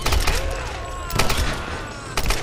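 Bursts of machine gun fire in the Tomb Raider video game, loud and close: a rattling volley at the start, another near the middle and a third at the end, with combat noise between.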